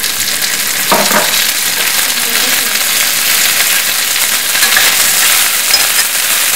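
Onion and green peas sizzle and fry steadily in a hot pan at a roadside stall, a loud and continuous hiss with a brief stirring clatter near the start.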